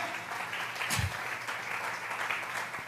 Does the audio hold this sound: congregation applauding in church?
yes